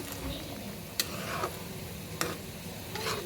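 Chopped tomato goes into a curry frying in a pan, giving a steady sizzle with a few sharp clinks of a spoon against the pan and bursts of stirring, all with no talking.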